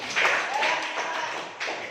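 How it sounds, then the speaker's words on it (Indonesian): A class of pupils applauds a classmate during a lesson, a brief burst of many hands clapping at moderate volume, steady and dense, with a faint voice mixed in. "tepuk tangan untuk Selfie"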